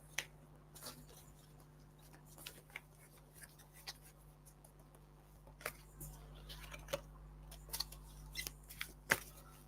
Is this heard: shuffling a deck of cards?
yes